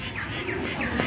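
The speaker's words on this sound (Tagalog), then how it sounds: "May ibon. Kalapati." A pigeon at a wildlife park gives soft repeated cooing calls over busy outdoor background noise, fairly close and continuous.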